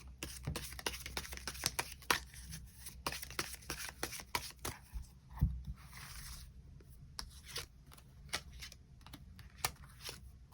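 Tarot cards drawn and shuffled by hand, a close run of quick crisp flicks and slaps with brief pauses, with no voice over them.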